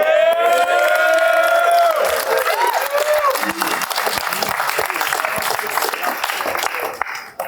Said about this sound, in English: Clapping like thunder